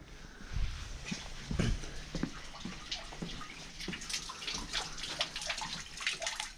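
Food is washed with water in a rural Colombian kitchen, with faint splashing and trickling and a few soft knocks as items are handled in the water.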